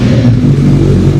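Superbike engine revving through a long Arrow aftermarket exhaust, a loud, close, steady deep drone held throughout the short burst.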